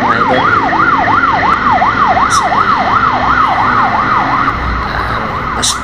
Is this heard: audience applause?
no